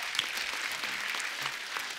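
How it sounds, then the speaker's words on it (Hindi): An audience on a Hindi TV comedy show applauds three singers with a dense, steady burst of clapping. "इनके लिए जोरदार ताली हो जाए"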